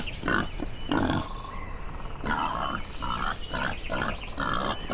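Wild boar grunting in a series of rough, nasal grunts and snorts, loud and close, coming in irregular bursts with short gaps across the whole stretch.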